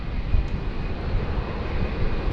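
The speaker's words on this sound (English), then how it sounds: "the Qantas 737 on your screen there has just arrived from Melbourne" A Qantas Boeing 737 arriving from Melbourne at rainy Sydney Airport gives off a steady, broad engine roar, heard from a distance as a continuous drone without speech.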